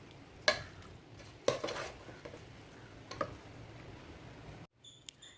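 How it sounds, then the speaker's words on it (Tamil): Mutton pieces slowly stirred through masala in a pot for biryani, a few soft scraping and clattering strokes over a faint sizzle, ending in a brief quiet gap and some light clicks. "மட்டன் பீசஸ் எல்லாத்துலேயுமே மசாலா படுற மாதிரி கொஞ்சம் மெதுவாக கிண்டி விட்டுக்கோங்க"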